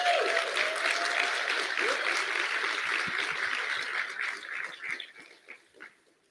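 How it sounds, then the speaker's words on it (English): Audience applause at a conference, a dense burst of clapping that gradually thins out into scattered individual claps, with a brief voice-like sound early on as it dies away. "Let's give them a round of applause."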